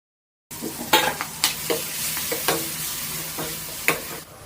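Coarsely ground green peas and capsicum go into a hot pan for a Punjabi veg curry, sizzling loudly at first, then frying steadily while a spoon stirs with a few scraping strokes.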